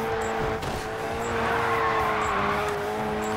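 A race car in the video game Grid 2 drives on, its engine holding a steady loud drone, with tire squeal and brief whooshes of passing cars over the top.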